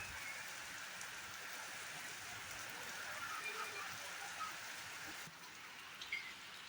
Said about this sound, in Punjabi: ਬਹੁਤ ਹੀ ਜ਼ਿਆਦਾ ਮੀਂਹ ਪੈਣ ਰਿਹਾ